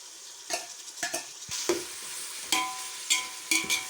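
Shallots sautéing in oil for chicken biryani: a low constant sizzle with repeated sharp stirring knocks and scrapes of a utensil against the pan at close range, and no one talking.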